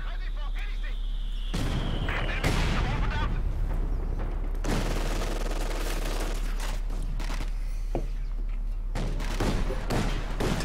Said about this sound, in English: Did he just use a rifle grenade there?